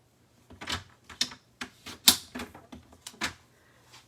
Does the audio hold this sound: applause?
no